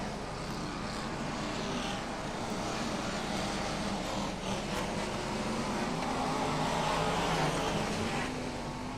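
BriSCA Formula 1 stock cars race at Long Eaton, a dense, continuous roar of many engines blending into one loud wash, with no voices heard.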